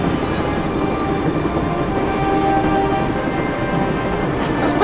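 Train in the Broken Sword video game rolling steadily with a dense rumbling clatter and faint high squeal, continuous and moderately loud with no talk.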